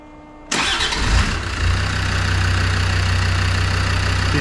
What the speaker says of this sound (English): So diesel pump is a bit noisy still.